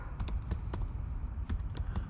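Close keystrokes on a computer keyboard come in short, uneven clusters of sharp clicks over a soft background hiss.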